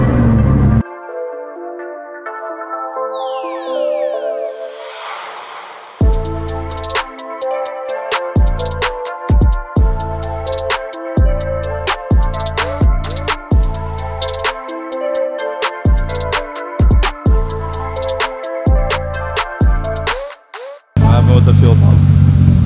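A 1JZ-swapped Nissan 350Z engine revs hard and loud up close. Its whine climbs steeply through the gears, with choppy bursts and pops between repeated rises, then cuts off at the end.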